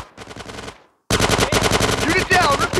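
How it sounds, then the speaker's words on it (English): Machine gun suppressing fire in GTA San Andreas rattles in loud, rapid automatic bursts, a short volley, a brief pause, then a longer unbroken stream of shots close up. "Get some suppressing fire in there!"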